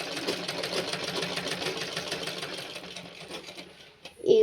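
A sewing machine stitches a boat neck blouse in a fast, steady mechanical chatter that runs close and continuous for about four seconds, then stops as a voice begins.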